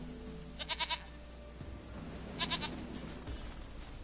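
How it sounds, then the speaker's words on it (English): Witcher 3 goat bleats in two short wavering calls, each a quick run of three or four pulses, fairly faint over a low game ambience. "Goat of mine, dearest, sweetest goat."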